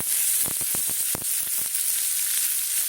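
Chicken shawarma sizzles loudly and steadily in a hot pan, with a quick series of sharp scraping clicks as the pieces are flipped and stirred, close up and without talk.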